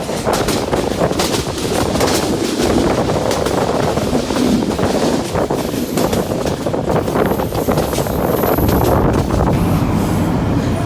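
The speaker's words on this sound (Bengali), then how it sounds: "দেখো ফাইনালি কিন্তু আমাদেরকে ক্রস করে দিয়েছে ট্রেনটাকে" A train passes close by near Sreemangal, Bangladesh, its loud rumble and rattling wheels rolling on steadily throughout, mixed with gusts of wind buffeting the microphone.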